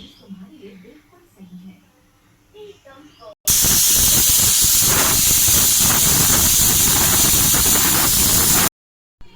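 A pressure cooker boiling jackfruit and potatoes with turmeric and mustard oil lets out a loud, continuous steam hiss lasting about five seconds, after a stretch of quiet speech, then cuts off abruptly.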